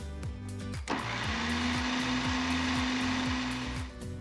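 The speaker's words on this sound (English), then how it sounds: "You're gonna puree this until it's a beautifully smooth and lump-free mixture." A food processor whirs steadily as it purees cooked pumpkin, a loud continuous motor hum starting abruptly and running without pause, with no talking.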